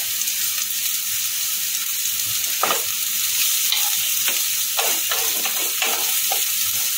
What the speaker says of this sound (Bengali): পেঁয়াজটা এবার মিনিট সময় ধরে একটু নাড়বো, একটু নরম হবে পেঁয়াজটা